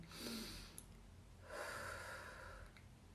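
Two slow, audible breaths during a facial rejuvenation exercise for the nasolabial and double-chin area, a breath in followed by a long breath out, close and soft with no talk.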